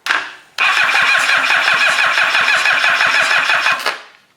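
A new starter on a Kawasaki STX-15F jet ski cranks the engine in one loud, steady burst of rapid rhythmic chugging lasting about three seconds, with a short electrical click before it and no talk.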